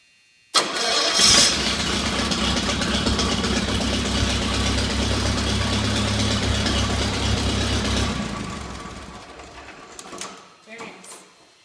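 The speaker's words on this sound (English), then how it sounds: "I'm going to go ahead and start up the tractor so you can see how nice this electric start works." A Farmall F-14 tractor engine cranks on its electric starter, catches and settles into a loud, steady idle close by for several seconds, then shuts down and quiets, leaving a few faint knocks.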